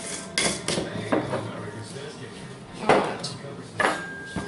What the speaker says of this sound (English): a whisk is a real good thing for stirring these powders up with